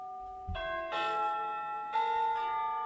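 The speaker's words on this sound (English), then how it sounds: "It is time for my church bells" Church bells peal in overlapping, sustained tones with long ringing harmonics, a second strike entering partway and swelling louder near the end, clear with no talking.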